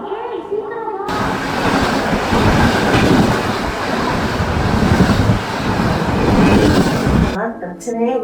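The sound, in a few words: train arriving at the station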